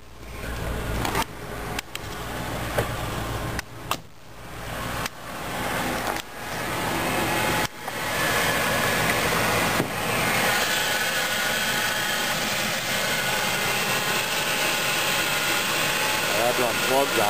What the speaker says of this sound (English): But when it's cold, it'll fire over and immediately stall.